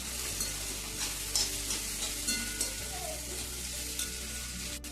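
Fried potato and cauliflower pieces tipped into a pan of veg pulao and stirred, a steady sizzle running underneath with soft scraping strokes of a spoon at irregular intervals, close and fairly quiet.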